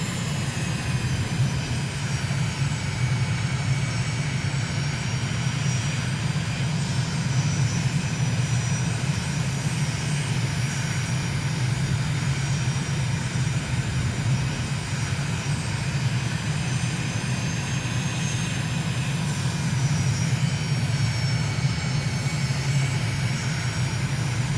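A fixed-wing airplane's engine drones steadily through a low, slow touch-and-go landing in a flight simulator game over Uruguay, a continuous loud propeller hum with no break or talk.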